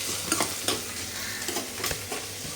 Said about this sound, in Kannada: ಬೆಳ್ಳುಳ್ಳಿ ಇಷ್ಟನ್ನು ಈಗ ಫ್ರೈ ಮಾಡಬೇಕು ಒಂದೊಂದೇ ಹಾಕಿ ಫ್ರೈ ಮಾಡಬೇಕು